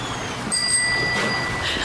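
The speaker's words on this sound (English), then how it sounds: "the bicycle bell rings again" A bicycle bell rings once on a bridge, a brief, bright metallic ding over steady, faint outdoor background noise.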